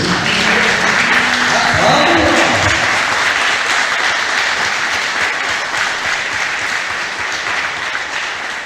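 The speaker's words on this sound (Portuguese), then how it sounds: "Você pode dar uma salva de palmas ao seu Jesus?" A church congregation claps in a loud, dense burst of applause that stays steady and then fades slightly toward the end, with no speech over it.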